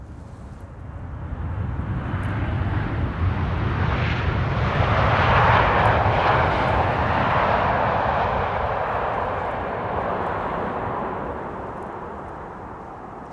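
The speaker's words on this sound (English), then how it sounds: "now landing. And it is a 777." A KLM Boeing 777-300, registration PH-BVV, lands at Amsterdam Schiphol with a steady, broad jet roar. It builds to a peak near the middle and then slowly fades as the airliner passes. No talk is heard over it.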